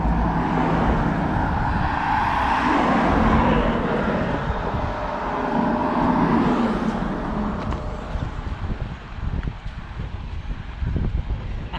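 Traffic roars past on a busy road beside the Round Aylesbury Walk footpath, a continuous loud rush of passing vehicles mixed with gusty wind buffeting the microphone.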